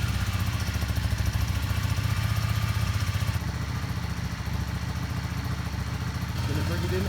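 A Yamaha Star 650 motorcycle engine idles on full choke at just above 2,000 rpm after a carburetor rebuild, giving a steady, close, fast-pulsing putter that continues for the whole stretch, with a person talking over it.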